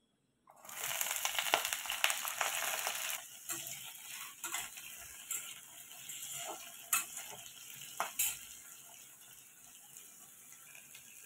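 Frying in mustard oil, likely potato pieces for an Odia prawn and taro curry, crackling and sizzling steadily with stirring clatters and a few sharp scrapes, close and fairly quiet.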